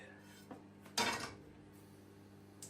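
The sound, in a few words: pan being handled on the stove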